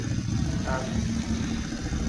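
A Pullman car climbs the Kop Hill climb with vegetation hanging from its exhaust pipe. Its engine is faint and distant, a low rumble barely above the outdoor ambience.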